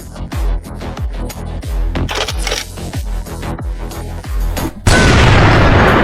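A Barrett rifle fires at a 2.5-tonne safe and an oxygen tank: rapid, loud, evenly spaced booming impacts, then a sudden sustained roaring blast that continues to the end.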